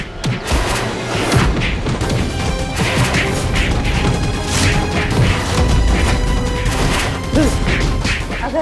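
A man being beaten in a fight: loud, dense thuds, smacks and crashing blows follow one another without pause, with shouting voices mixed in.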